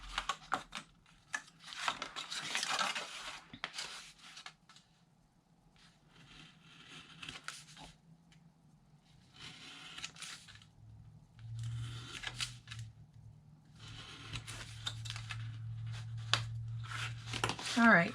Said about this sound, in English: We're simply going to cut in to get our tabs.